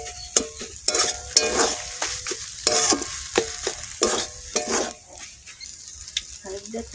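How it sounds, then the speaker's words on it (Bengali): A spatula stirs taro flowers in a hot, oily pan with a quick rhythm of scraping strokes against the metal. A soft sizzle runs underneath, and a few brief pauses break up the stirring. "কচুর ফুল তো শুধু ঘাঁটতে হবে"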